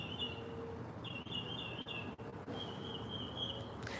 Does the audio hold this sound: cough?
no